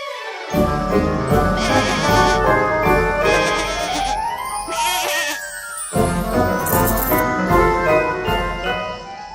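A cartoon goat bleats in a children's animated moral story, its cries rising and falling over loud music with jingling, tinkling bell accents throughout.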